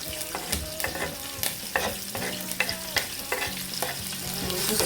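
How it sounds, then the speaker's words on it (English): Chili, onion, thyme and curry leaf stirred and frying in a pot for a lamb and cabbage curry, a steady close sizzle broken by repeated scraping strokes of the spoon, with no talking. "now we're ready to add our two different types of chili, our onion, thyme and curry leaf"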